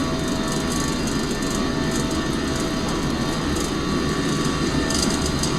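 Jet aircraft engines roar steadily and loud throughout a takeoff roll on a flight to Gibraltar, a continuous broadband rumble with no pauses.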